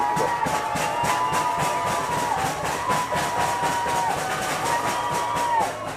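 Spectators at a Group 4 rugby league grand final in North Tamworth cheer and clap in a sustained, fairly loud crowd roar, with rhythmic pulses of clapping running through the din and a few whistle-like tones rising above it.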